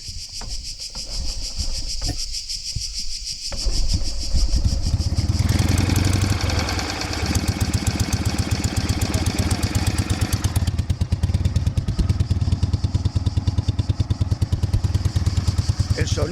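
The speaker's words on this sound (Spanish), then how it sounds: "¿La podemos arrancar? Va. Arrancar la moto?" A classic motorcycle engine is started after a few quiet seconds, catching with a loud rumble and then settling into a steady, close, continuous idle.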